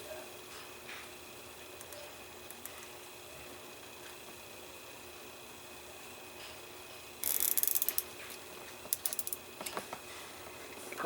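A small screw is driven into a plastic side part of an Agora Models T-800 Terminator head, giving a short burst of close ratcheting, scraping clicks over a quiet room hum.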